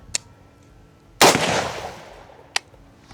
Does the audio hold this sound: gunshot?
yes